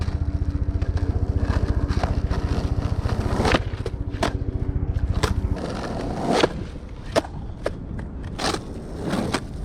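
A skateboard rolls with a steady rhythmic clatter over joints, then grinds and scrapes on a metal ledge in a slappy 50-50 at a skatepark, with sharp wheel impacts and pops, close and loud.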